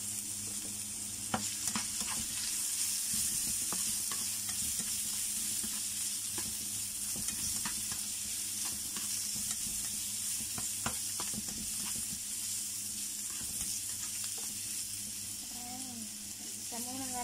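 Mushrooms sauté in a pan with garlic and ginger, a continuous close sizzle broken by frequent stirring scrapes and clatters, fairly soft overall, with a brief voice near the end.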